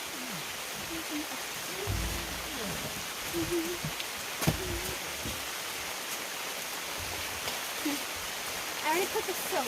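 Steady pouring rain drums over a campsite as a constant wash of noise, with scattered voices and occasional knocks and bumps from camp chores beneath it.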